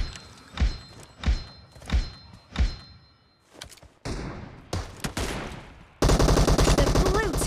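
Gunfire in PUBG Mobile, with an M24 rifle in play: four evenly spaced heavy shots, then a scattered burst, then a dense rapid automatic stream at the end, loud and close.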